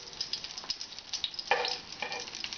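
Browned pieces sizzling in sauce in a pan: faint, crackly frying with scattered pops and two brief louder bursts of sizzle, no talk over it.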